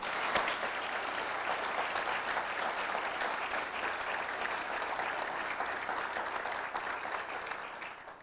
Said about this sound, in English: I would like a round of applause for the work they've done and the job that they've carried out.